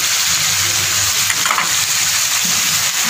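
Chicken frying in a pan with chopped tomatoes and green chilli, a loud, dense, continuous sizzle close up with faint stirring movement.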